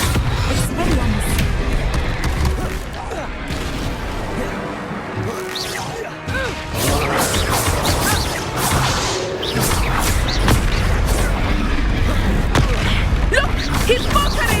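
Spell-casting in Hogwarts Legacy during a busy duel: whooshes, crashes and thwacking impacts rush past over a steady layer of combat noise, with voices calling out now and then.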